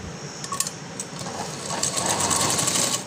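A sewing machine stitches a lined floral frock in a rounded seam, its fast, even needle chatter running continuously and close up, with small pulses in speed.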